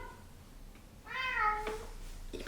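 A single cat gives a clear mid-length meow partway through, rising and then falling, close to the microphone in an otherwise quiet indoor room, with a small extra sound just after it.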